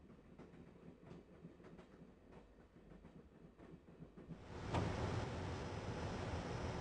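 A train running on rails in the Broken Sword video game: soft rhythmic clickety-clack of wheels over rail joints, then a sudden swell into a louder, harsher rushing rumble for the last couple of seconds.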